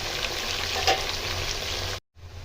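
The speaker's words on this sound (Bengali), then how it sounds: "ফুলকপিটাকে আমি সাদা তেলে এবার দিয়ে দিচ্ছি। এখানে নুন হলুদ কিছু দেবো না, আগে সবজিগুলোকে হাই ফ্লেমে আমি ভেজে নেবো।" Cauliflower fries in white oil over a high flame, giving a loud, close, steady crackling sizzle for about two seconds before it cuts off abruptly, then returns quieter.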